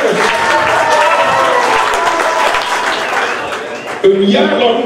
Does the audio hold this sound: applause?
yes